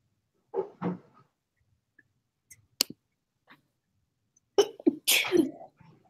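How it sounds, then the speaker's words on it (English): A few small, soft sneezes, one pair early and a cluster near the end, separated by quiet gaps with faint clicks, close and without talk. "Those are the cutest sneezes I have ever heard."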